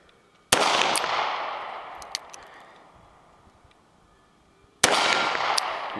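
Two sharp, loud shots from a Taurus Ultra-Lite titanium handgun striking steel plates at about 20 yards outdoors, each crack ringing out and decaying over a few seconds, the second arriving about four seconds after the first.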